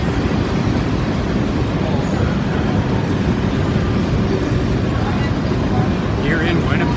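A freight train rumbles past at close range, a steady dense roar of wheels and wagons with no let-up, while light traffic noise blends into the background.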